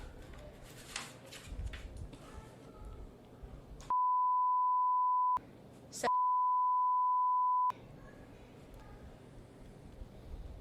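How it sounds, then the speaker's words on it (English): Two long steady censor bleeps at a single tone cut through a phone conversation where someone recites a cell phone number, each tone loud and unbroken for over a second with a short gap between, surrounded by talk. "hopefully they bleep it out"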